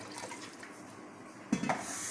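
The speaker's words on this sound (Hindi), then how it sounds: "ग्रेवी बनाने के लिए थोड़ा सा पानी भी ऐड कर दिया इसमें।" Water is poured into a pan of chicken and mutton kofta curry to make the gravy, a short splash and trickle starting partway through after a quiet stretch.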